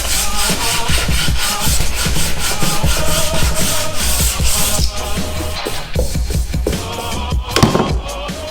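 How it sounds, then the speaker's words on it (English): Body filler on a plastic car bumper being sanded by hand with a block, a steady, close, rhythmic scratchy rubbing of back-and-forth strokes that continues without a break and with no talk. "And then I'll just sand that down a little bit"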